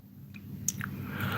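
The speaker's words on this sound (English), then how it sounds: "You hear me munching, guys?" Chocolate is munched close to the microphone, with soft, moist chewing and a few faint clicks over a low background hum.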